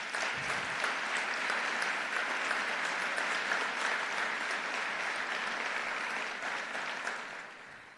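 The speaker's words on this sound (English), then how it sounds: "please give them a round of applause" Steady audience applause fills a hall at an annual MLK breakfast, dense and sustained at close range before tapering off slightly near the end, with no talk over it.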